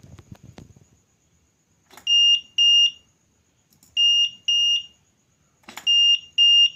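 Motorcycle alarm buzzer driven by an ESP32 with an SW-420 vibration sensor, sounding in three paired bursts of shrill electronic beeps, loud and close, with brief gaps between pairs and a short faint rustle before the first.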